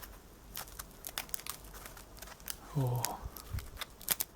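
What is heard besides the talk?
crinkling a piece of tinfoil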